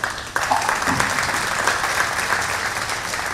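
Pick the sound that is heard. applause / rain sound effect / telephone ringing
applause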